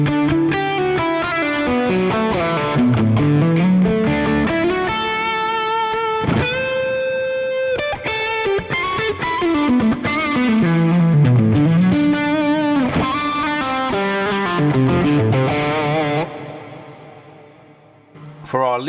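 Electric guitar through a Fractal FM9 live gigging preset with a boost block, played with distortion, modulation and reverb. Loud, sustained chords and lead lines ring out continuously, then fade near the end.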